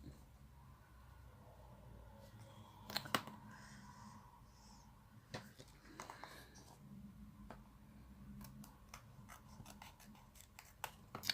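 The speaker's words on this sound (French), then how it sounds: "Je vais donc couper ma partie ici." Scissors snip paper for a Christmas mini album in a quiet room, a few faint close cuts with scattered light clicks and rustles between them.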